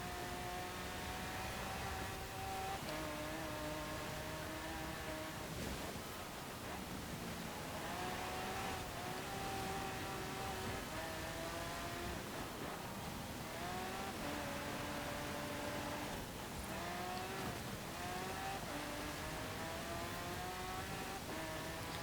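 A hypercar engine in Forza Horizon 4, based on the Lamborghini Aventador, drones and revs steadily through repeated gear changes, the pitch rising and dropping over a long continuous stretch.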